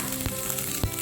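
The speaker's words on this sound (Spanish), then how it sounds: "Vamos a poner una olla a calentarse, le vamos a echar la mantequilla" Butter sizzling as it melts in a pot heated over medium heat for a béchamel sauce, a steady close crackle with two brief louder clanks around it, no talking.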